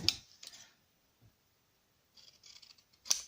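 Scissors snip through paper while making a homemade box, giving a few short, crisp cuts spaced apart with quiet gaps between them, close and fairly faint.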